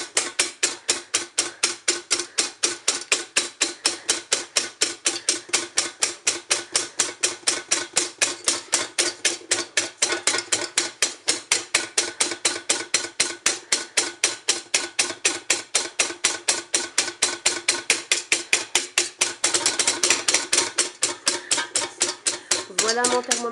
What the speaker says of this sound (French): Donc je continue de fouetter.